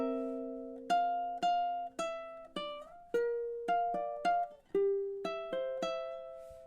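A ukulele is fingerpicked through measures 18 to 22 of a song, a soft, close run of single plucked notes and small chords that ring and decay, steady and unhurried with no voice.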